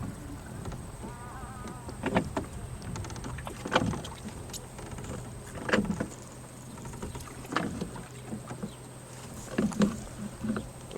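Soft rhythmic creaks and splashy knocks of a sculling oar working at the stern of a proa every couple of seconds, over wind and water hiss.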